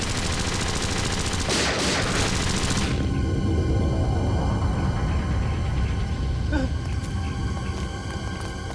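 A missile launched from an island in a TV crime drama roars out as a loud sustained rushing blast that dies down after a few seconds, followed by a steady rumble, with no talking.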